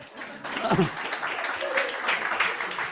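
Applause from a church congregation during a sermon, a steady broadband patter of clapping lasting a few seconds with voices and cheers mixed in.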